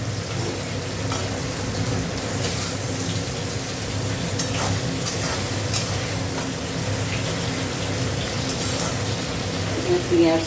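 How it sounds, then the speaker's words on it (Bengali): Onions fry in a pan with a steady, moderately loud sizzle and occasional stirring clicks, over a low background hum. "পেঁয়াজটা ভাজা হলে এখন মশলা"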